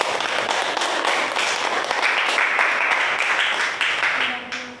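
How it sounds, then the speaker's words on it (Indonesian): Clapping from students in a school classroom, a lively burst of hand claps with distinct individual slaps that swells and then tapers off, with a voice rising briefly near the end. "Tubuh manusia itu, tepuk tangan dulu."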